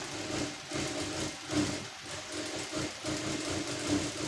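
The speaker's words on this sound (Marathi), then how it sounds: "एक साईडला आपल्याला 1/2 इंच फोल्ड करून घ्यायचं आहे आणि एकसारखी टीप मारून घ्यायची आपल्याला" Sewing machine stitching a half-inch fold along a blouse edge, a quiet, steady rhythmic whirring hum with regular pulses, faint and alone.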